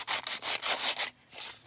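Sanding a handmade card, several quick rhythmic rasping strokes in a row, close and fairly quiet, with a brief pause before the last strokes.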